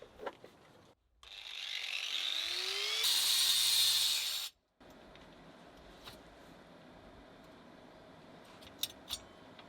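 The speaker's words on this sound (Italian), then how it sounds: "Comunque sto tagliando la pietra," Angle grinder cutting stone while running off a Bluetti EB70 portable power station, a loud whining grind lasting a few seconds that rises in pitch and strain, then cuts off abruptly, leaving faint background sounds and a few light clicks.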